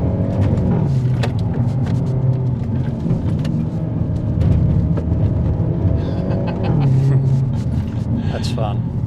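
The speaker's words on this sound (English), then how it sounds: "Very hardy little motor." A 2024 Hyundai i30 Sedan N Premium with a DCT gearbox being driven hard, its engine a steady loud rumble that rises and falls in pitch with gear changes, with people talking over it.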